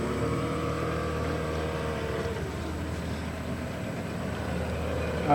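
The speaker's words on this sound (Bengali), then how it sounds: "আরেকটা বোট এই দিক দিয়ে চলে যাচ্ছে।" A motorboat passes on a backwater boat ride through mangroves near Pondicherry, a steady low engine drone with water wash holding level and fairly close throughout, no voices.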